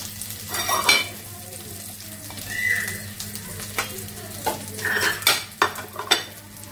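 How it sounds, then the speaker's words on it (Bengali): Bitter gourd and pointed gourd frying in a pan, a continuous close sizzle punctuated by clinks and scrapes of a utensil against the cookware. "আর এখানে করলা ভাজি হচ্ছে"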